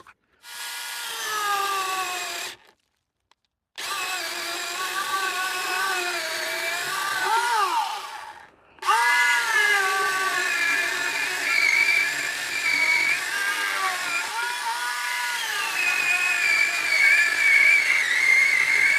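A Seesii 6-inch mini chainsaw cuts through a roughly 4-inch seasoned maple log, its high whining motor buzzing loud and close, with two brief pauses as the chain stops and restarts before a long steady cut.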